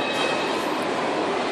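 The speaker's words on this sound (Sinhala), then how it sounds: "අනේ ට්‍රේන් එකේ සද්ද." Mini train running on a ride, a steady close rumble and rattle of the cars lasting throughout without breaks, with no talking.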